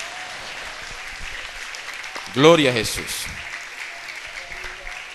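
A church congregation breaks into a short, loud burst of clapping during worship, mixed with a raised voice calling out praise, then quickly fades back to a quiet room.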